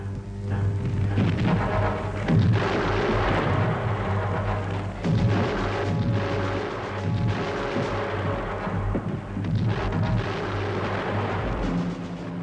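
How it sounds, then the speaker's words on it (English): A World War I artillery creeping barrage moving toward the town of Cantigny, a steady rumbling roll of distant heavy gunfire and booms, continuous and dense for the whole stretch. "they had a creeping barrage that was slowly creeping towards the town of Cantigny"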